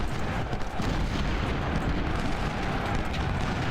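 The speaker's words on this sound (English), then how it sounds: "Our artillery is just firing away" Artillery firing in the Ultimate General video game during the Civil War battle of South Mountain: a dense, continuous rumble of distant cannon fire and crackling guns, with no single boom standing out.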